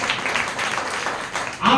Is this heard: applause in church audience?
yes